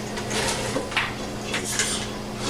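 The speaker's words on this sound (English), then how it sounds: "I'm gonna go ahead and throw my onions in this pot, and we're going to caramelize them." Onions tumble into a pot of melted butter, giving a soft rustle and faint sizzle with a few light clatters against the pot, close and quiet, with no talking.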